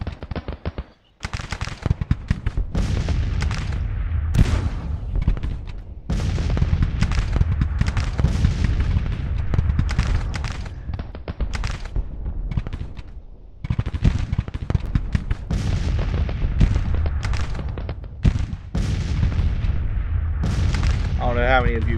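Artillery and massed gunfire in Grand Tacticians: The Civil War, with infantry and artillery brigades engaged: dense, continuous rumbling volleys and sharp cracks, loud and sustained, with brief lulls and a short tonal flourish near the end.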